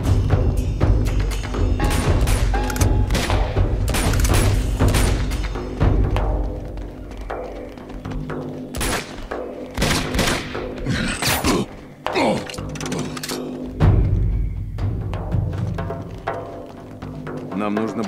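Loud, dense Uncharted 2: Among Thieves combat: repeated booming explosions and heavy thuds pile up continuously, with crashes and a voice breaking through now and then.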